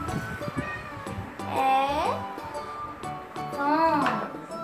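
A hungry house cat gives two drawn-out, rising meows close by, mixed in with a voice talking.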